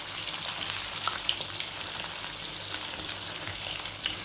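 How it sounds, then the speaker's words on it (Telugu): Chicken pakoda deep frying in hot oil while being stirred, a steady dense sizzle and crackle with occasional sharper pops from the stirring, close and continuous, with no talk. "ఫార్టీ పర్సెంట్ డీప్ ఫ్రై అయ్యే వరకు మనము దాన్ని ఊరికే పెట్టకూడదు, కలబెడుతూనే ఉండాలి."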